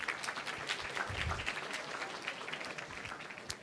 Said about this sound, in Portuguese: Aí, palmas para Thales.